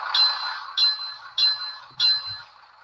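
A model train DCC sound decoder bell played through a small cut-down cellphone speaker, four evenly spaced bright metallic dings, close and thin-sounding, with no talking.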